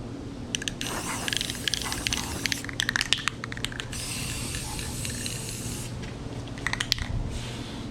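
Spray paint is applied to a rusted trolling motor in short bursts: three or four quick, hissing sprays with brief clicks and rattles between them, close by over a low steady background hum.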